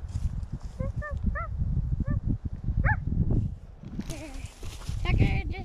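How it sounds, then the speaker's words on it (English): A dog barks several times in short, high, yelping bursts, mixed in with people talking nearby and some shuffling, footstep-like sounds. "Stop barking at me and Daddy."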